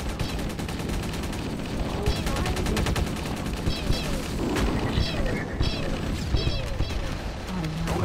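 Rapid bursts of gunfire in the Halo video game, dense and sustained across the clip, with booms and crashes from the firefight.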